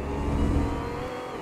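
A car engine in the Roblox racing game Wayfort revs and accelerates in a brief, close, steady whir with no talk over it.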